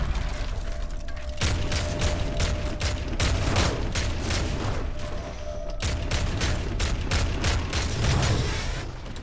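Gunfire in the shooter game Call of Duty Modern Warfare 3 during a raid in Somalia, with dense, continuous rapid bursts of automatic weapons and mechanical clatter, loud and close, with no talking over it.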